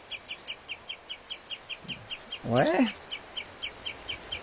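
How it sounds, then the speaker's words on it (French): Small birds chirp in a steady, evenly spaced series near a fjord beach on foggy Senja island in Norway, fairly faint; a person briefly speaks partway through. "On a des oiseaux là."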